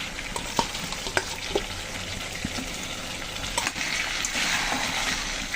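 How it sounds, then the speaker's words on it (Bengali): Crab and fried potatoes sautéed with spices for a Bengali crab bhuna, frying in a pan with steady sizzle and occasional sharp stirring clacks, nearby and moderately loud, with no talk. "এই কাঁকড়ার আলু দিয়ে আবার একটু সুন্দর করে কষিয়ে নেব।"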